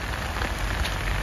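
Heavy rain pours down during a storm in Casablanca, a dense, steady hiss of drops hitting surfaces close by, with no voices.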